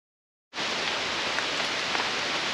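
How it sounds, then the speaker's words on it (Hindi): Steady rain falls on a foggy mountain trek on the Rudranath route in Uttarakhand, a dense even hiss that starts abruptly and continues with no voices. "ये हो गया बारिश।"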